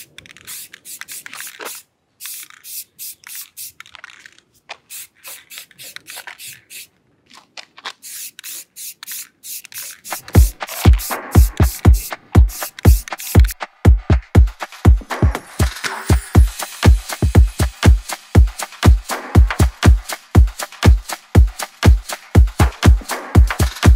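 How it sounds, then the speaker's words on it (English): A can of spray paint hisses in quick rhythmic bursts as it coats DIY tall planters, with softer, sparser sprays at first and then dense, loud, evenly spaced pulses close up, with no talking. "So I've been playing around with the spray paint"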